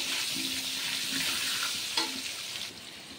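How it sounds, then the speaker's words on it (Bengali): Potatoes fry in hot oil in a home kitchen pan, giving a steady, close sizzle with a brief clatter of stirring near the end and no voices over it. "আলুটা প্রথমে ভেজে আমি তুলে নেব।"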